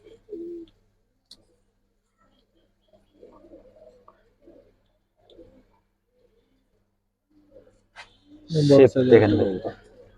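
Kaldam Giribaz pigeons coo softly in short, faint bursts, with a louder stretch of voice or cooing close by near the end.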